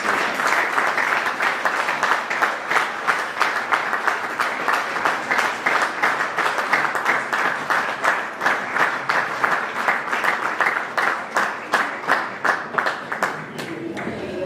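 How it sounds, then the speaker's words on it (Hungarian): An audience at an anniversary gala claps in sustained, rhythmic applause. Loud, close and steady, the clapping continues throughout with slight swells in intensity. "egy nagy tapsot szeretnék kérni Melindának"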